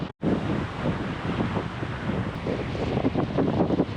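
Cold, gusty wind at a car park in an Australian winter roars steadily and loudly against the microphone for several seconds, with no voices.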